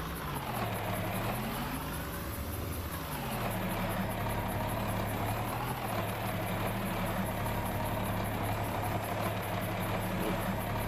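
A John Deere tractor engine idles close by, a steady low rumble whose pitch dips and swells briefly once before settling back to an even drone, with no speech.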